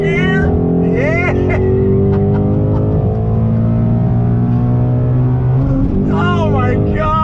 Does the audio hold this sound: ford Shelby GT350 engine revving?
yes